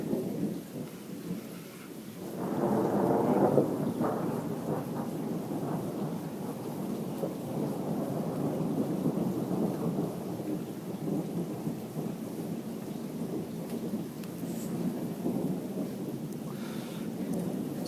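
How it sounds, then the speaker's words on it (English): A thunderstorm in Italy rolls on with a heavy rumble of thunder near the start, then steady rain and low continuous rumbling fill the rest, loud and unbroken with no voices. "So yeah, Sean, these are our thunderstorms."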